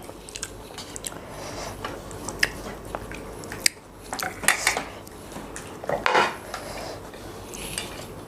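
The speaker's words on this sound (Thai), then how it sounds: "เอาซ้อนตักก็ได้นะ" A spoon scoops from a hot pot of Thai moo jum pork hotpot, with scattered clinks of metal against the pot and soft chewing and squishy eating sounds close by, without talk.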